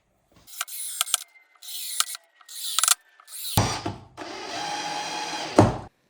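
Screws driven with a power drill to fix a block onto a woodworking shooting board, several short whirring bursts followed by a longer sustained run, close and loud with no talking.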